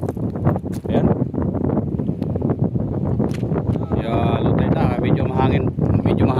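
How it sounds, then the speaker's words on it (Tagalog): Steady wind buffets the microphone outdoors, a constant rumbling gust under someone talking, with a brief whistling tone partway through. "Medyo mahangin."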